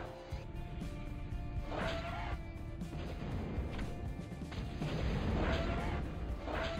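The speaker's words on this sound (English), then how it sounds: "Somebody is firing at me from there." Unit gunfire and artillery explosions in the Total Annihilation strategy game, a dense run of booms and impacts with whistling shots layered over a constant rumbling battle bed.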